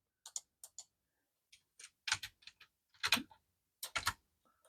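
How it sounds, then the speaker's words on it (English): Quiet, crisp keystrokes on a computer keyboard, a few isolated taps followed by quicker clusters of clicks, close by with no talking. "Let me type date in."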